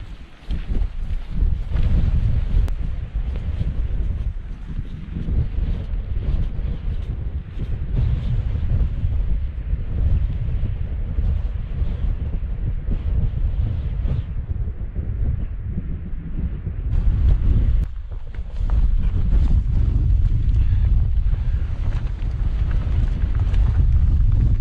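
Strong wind buffets the microphone in a constant low roar near a mountain summit in the Cairngorms, Scotland, gusting harder at moments, with a brief lull before it picks up again.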